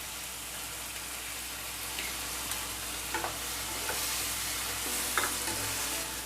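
Ginger garlic paste frying in a pan with softened onion and tomato for an egg curry, a steady low sizzle with a few soft stirring scrapes and clicks of a spoon, no voices.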